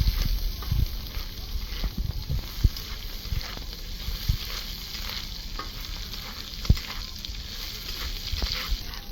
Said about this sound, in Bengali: খুব হালকা করে মাংসটাকে আমি ভেজে নেব